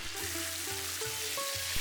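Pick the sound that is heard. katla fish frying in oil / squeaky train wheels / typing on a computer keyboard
katla fish frying in oil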